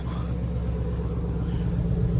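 A stock 2024 Ford Mustang EcoBoost Premium idles with a low, steady exhaust rumble, close and continuous with a faint pulsing throb and no voices.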